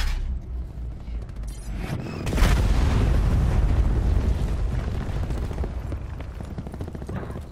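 Hellstorm missile explosions in Call of Duty: Black Ops 4, a quiet stretch and then a heavy booming blast that rumbles and slowly decays, with scattered gunfire faintly underneath.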